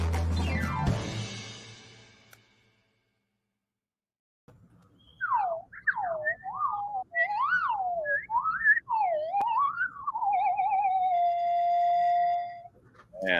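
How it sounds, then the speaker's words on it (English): A whistle glides up and down in wavering, siren-like sweeps after a brief noisy burst and a pause, ending on a long held tone. "Man, I'm getting really good at this slide whistle."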